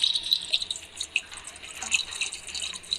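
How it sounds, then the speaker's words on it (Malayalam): Gasoline poured in a steady trickling stream with scattered drips, close and fairly quiet for about three seconds, with no talking. "ഗ്യാസിലിന് ഒഴിച്ചിട്ടുണ്ട്"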